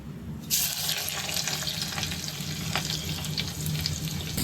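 Chopped onion drops into hot oil with a sudden loud sizzle, then crackles steadily close up and alone, with faint scraping of stirring underneath.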